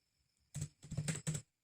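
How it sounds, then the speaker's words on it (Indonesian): A quick, quiet run of keystrokes on a computer keyboard while typing into a Debian 12 mail server config file: a few close, crisp clusters of clicking with nothing else heard. "di paling bawahnya kita tambahkan, kita ketikkan home"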